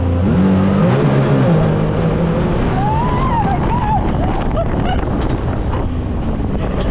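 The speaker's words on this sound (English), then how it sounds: "Put it in sport mode, I'll just give you a little acceleration." Can-Am Maverick side-by-side accelerating hard in sport mode from a racing start, a loud engine roar under heavy wind buffeting, with the revs audibly climbing and shifting.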